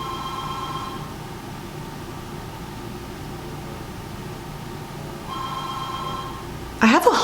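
A home landline phone in a kitchen rings twice with a soft electronic trill, muffled and distant, over steady room hum, followed by a brief clatter at the end.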